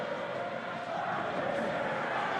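A packed stadium crowd at a Colomiers versus Montauban rugby match makes a dense, steady roar, with drums and horns going under it, heard from a distance without letup.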